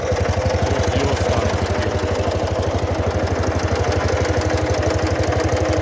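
A restored KhTZ 012 mini tractor engine runs steadily at close range, with a fast, even rhythm of low thumping pulses that holds without a break.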